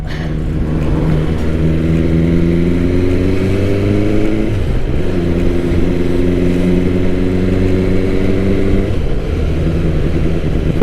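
A 2021 BMW S1000R riding through town, its engine droning steadily and loudly with two rising pulls, each ending in a brief dip as the rider shifts gear, all under constant wind noise.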